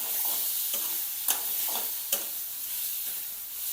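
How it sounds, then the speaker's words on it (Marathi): Mutton liver pieces fry and sizzle steadily in a pan with no added oil, a constant hiss broken by a few scraping stirs. "कलेजीचे तुकडे परतून घ्यायचं"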